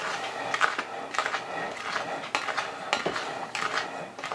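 Yeast for pizza dough gets stirred in a container, giving a run of close, rapid clinks and scrapes of a utensil against the sides, steady throughout with no talking.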